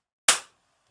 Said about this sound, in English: So we have a pati, which is a flat hand clap.